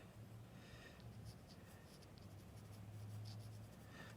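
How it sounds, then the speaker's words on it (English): A dull, soft pencil scratches and strokes steadily across paper while drawing hands, a faint continuous rasp with a low background hum underneath. "My pencil's a little dull."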